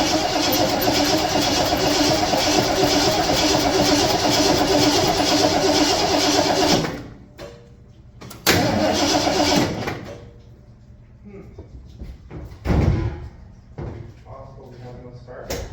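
A 1974 Ford F-250 farm truck's engine cranks loudly and steadily for several seconds without catching, then stops, followed by a couple of short bursts of cranking and thumps with someone talking.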